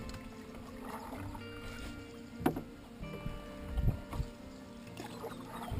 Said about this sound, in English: We've been paddling a couple of hours now.